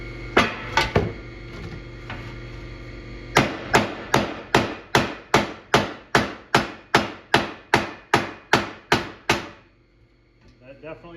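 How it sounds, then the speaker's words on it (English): A hammer strikes a metal arcade control panel: a few blows first, then a pause, then a long, even run of about fifteen loud, ringing metallic whacks at close range. "let me see if I can't hammer this a little bit straighter"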